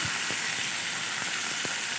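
Continuous bright hiss of spices sizzling in hot oil, tempered for sambar, with a few soft pops and crackles scattered through, close by.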